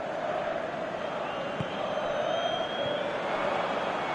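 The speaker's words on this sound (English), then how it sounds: "Crowd appreciates good football all round there." A football stadium crowd gives a broad, steady roar of appreciation, a sustained distant wash of many voices that holds evenly throughout.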